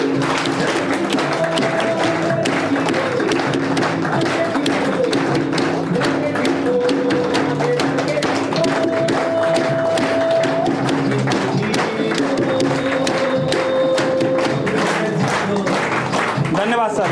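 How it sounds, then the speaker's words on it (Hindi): An audience at a grand motivational seminar gives a standing ovation, clapping densely and without a break over music, with voices mixed in. "एक बार स्टैंडिंग ओवेशन में खड़े होकर स्पेशल ताली के साथ सर का स्वागत किया जाए"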